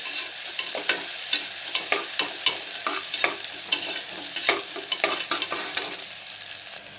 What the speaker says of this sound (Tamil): ஒரு 2 நிமிஷம் வதக்கினா போதும்.